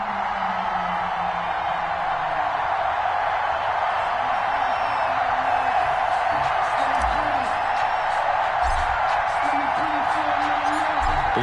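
A home stadium crowd roars in an EA Sports NFL video game, a steady, wide wash of cheering that holds for the whole stretch beneath an announcer's ongoing commentary.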